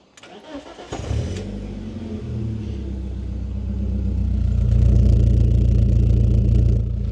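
BMW E36 3 Series four-cylinder M44 engine cranks and catches, then idles with a deep rumble before being revved up, growing louder and raspier near the car.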